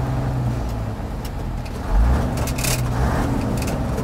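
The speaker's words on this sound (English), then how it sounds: "So now we're going to try a downshift." A truck with a B61 engine and twin-stick transmission downshifts, its steady, loud low engine drone shifting pitch with a brief surge in the middle and no talking.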